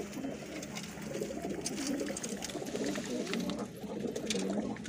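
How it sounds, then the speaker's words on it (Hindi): Several pigeons, a mixed-colour flock kept for sale, coo steadily close by in soft overlapping throaty calls, with a continuous low ambient background and no talking. "ये कबूतर बैठे हैं।"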